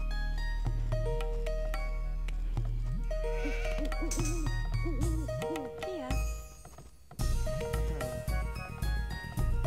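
Sheep bleat in Age of Empires 2, their wavering cries rising over steady in-game music, chimes and other game effects.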